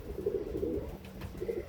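Red Gajra pigeons of the Tenali breed from Andhra Pradesh, a breeder pair, coo close by in a soft, continuous rolling murmur with rising and falling pulses.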